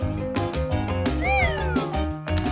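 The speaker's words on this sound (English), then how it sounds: "It's a kitten, the cat's baby." A kitten meows over and over, one drawn-out rising cry standing out, close by, with light music playing underneath.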